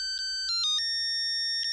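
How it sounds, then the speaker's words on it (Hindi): A mobile phone rings with a bright electronic melodic ringtone, a few short tonal bursts in quick succession, clear and close with no talk over it, in a Taarak Mehta Ka Ooltah Chashmah comedy scene. "रोशन को याद किया और रोशन का फोन आ गया"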